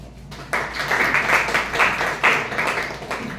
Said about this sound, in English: please give double round of applause to TM Vassal